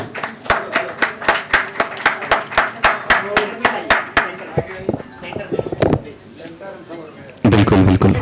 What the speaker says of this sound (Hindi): एक बार मैं आपके लिए तालियां बजा रहा हूं, आप मेरे साथ आपके लिए बजा लीजिए।